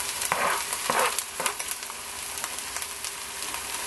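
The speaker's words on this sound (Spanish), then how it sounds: "voy a acitronar un poquito la cebolla" Onion sautés in canola oil in a pan, giving a continuous close sizzle and crackle with several louder bursts in the first half before it settles into an even hiss.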